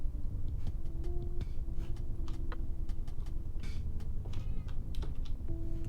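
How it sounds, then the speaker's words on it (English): A house cat meows a couple of times, fairly close, over a steady low background hum with scattered clicks and soft ambient noise. "Kitty cat."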